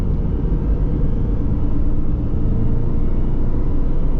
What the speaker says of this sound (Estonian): Eks jõuamegi teele, kus me saame kiirendada 90-ni.